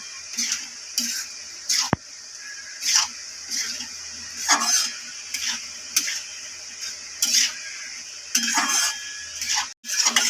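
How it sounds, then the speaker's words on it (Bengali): Spoon scraping and clinking through white sauce pasta in a metal pan, a series of short irregular stirring strokes repeating close up with brief pauses, one sharp knock near the start. "এটা ভালো করে মিশিয়ে নেব।"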